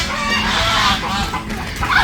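Pet ducks being fed alongside goats give out a steady run of close, busy fowl calls and chatter throughout, with no one speaking.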